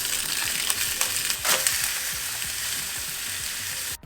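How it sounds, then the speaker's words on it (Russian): Burger patties sizzling in a hot pan with olive oil, a steady close crackle and hiss with scattered pops, no voices, cutting off abruptly at the end. "И отправляем обжариваться котлеты."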